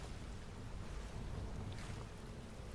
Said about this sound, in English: The sound like the water running down here is just, oh, it's brilliant.